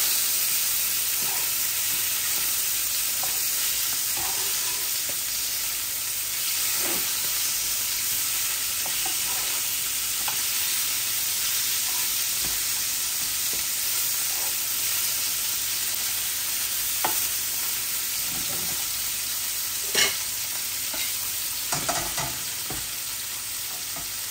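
Tilapia fish fry crisply in oil in a pan, a constant loud sizzling hiss with scattered crackles and occasional scraping stirs over about twenty-four seconds.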